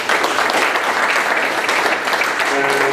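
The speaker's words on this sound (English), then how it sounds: "Ask you to give yourselves a round of applause." Audience at a health equity meeting gives itself a round of applause, a loud, steady, dense wash of clapping that holds for the whole stretch, with a faint sustained tone entering near the end.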